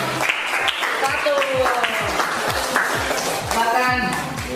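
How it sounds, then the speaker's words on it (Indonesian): A middle school class in Bima claps for a student group, scattered light applause running beneath a teacher's voice and classroom chatter. "Tepuk tangan buat kelompok"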